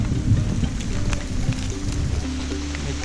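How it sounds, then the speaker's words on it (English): Heavy rain pours down on a hiking trail in the Japanese Northern Alps, a dense steady patter with scattered louder drops and a low rumbling undertone throughout. "めっちゃ雨降ってんぜ。"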